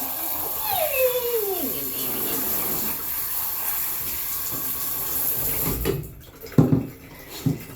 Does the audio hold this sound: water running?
yes